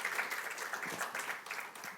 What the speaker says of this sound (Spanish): Fuerte aplauso a estos chicos